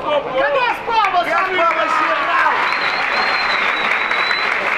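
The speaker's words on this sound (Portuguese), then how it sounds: "Cadê as palmas?" Crowd at a freestyle rap battle clapping and cheering after a verse, loud and continuous, with shouting voices and excited chatter over the applause.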